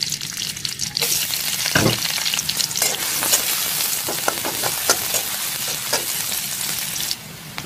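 Chopped onions fry in a little oil, giving a constant close sizzle punctuated by repeated sharp spatula scrapes and knocks as they are stirred, with no speech.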